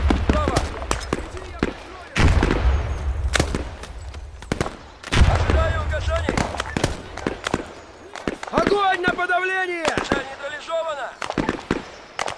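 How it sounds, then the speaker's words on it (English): Several hand grenade explosions go off in a war video game, heavy booming blasts spaced a couple of seconds apart with rumbling tails, mixed with scattered gunfire and someone talking throughout. "Let's throw a few hand grenades"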